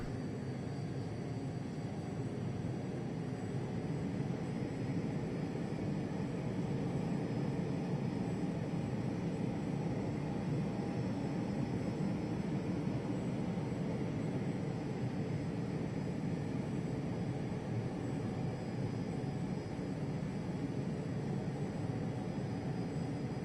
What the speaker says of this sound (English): we are about to take off runway 18 right on our way to Atlanta